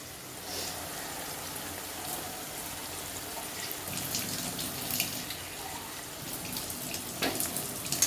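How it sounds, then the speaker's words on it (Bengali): A kitchen tap runs while something is rinsed under it, with a soft, steady splashing and irregular spatters. The water is faint, fairly close and continuous throughout, and no one speaks. "এবার এটাকে আমি এখানে ধুয়ে দিচ্ছি।"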